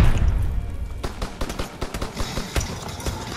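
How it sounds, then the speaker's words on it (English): Gunfire from shotguns in the video game Call of Duty: World War II rings out as a cluster of sharp, loud blasts in quick irregular succession after an opening rumble. "Look at how many shotguns just got fired at that dude"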